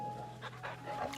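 Dog panting in the Final Fantasy XVI video game, quick soft breathy pants repeating in short bursts, faint and close over a low game background hum.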